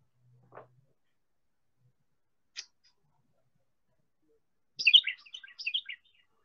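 A common backyard songbird gives a few isolated chirps, then a quick bright burst of warbled song notes, clear and fairly close against near silence.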